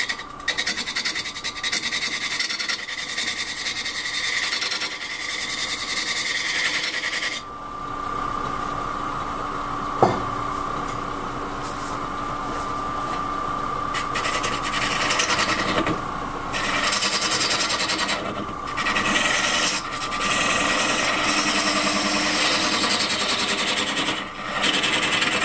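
A square nose scraper works an oak bowl spinning on a wood lathe, giving a steady, close scratchy rasp that runs continuously with slight shifts in intensity and a faint high whine.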